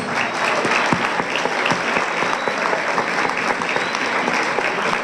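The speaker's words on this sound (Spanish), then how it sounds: "Fuerte los aplausos." An audience at a youth proposals forum applauds to welcome Wilmer Boorques, many hands clapping in a loud, even, continuous roar with scattered sharper individual claps.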